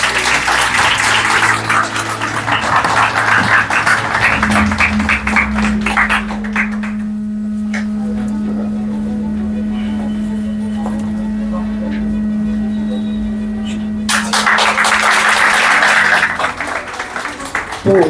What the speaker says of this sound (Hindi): जोरदार तालियों का स्वागत करें।